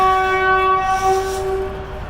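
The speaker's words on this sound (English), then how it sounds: "Well, speak of the devil, here comes the train." A TEXRail commuter train arrives with a long, loud, steady horn blast, its sustained harmonic tones holding close and strong before easing slightly toward the end, with no talking.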